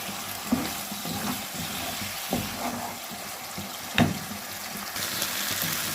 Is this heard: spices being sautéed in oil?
yes